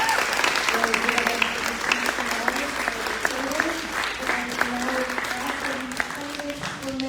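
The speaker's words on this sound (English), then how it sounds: "So you guys would please give them another round of applause." Audience at a candidates night meeting gives a sustained round of applause for the candidates, steady dense clapping from a crowd throughout, with voices murmuring underneath.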